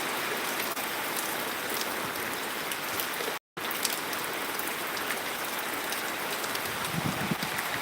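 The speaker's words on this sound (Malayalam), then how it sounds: "നല്ല കട്ടിയുള്ള വെള്ളത്തുള്ളികളാണ് വീഴുന്നത്" Heavy rain with thick drops pours steadily in Changanacherry, Kottayam, Kerala, a dense continuous hiss broken by one brief dropout midway, with no voices.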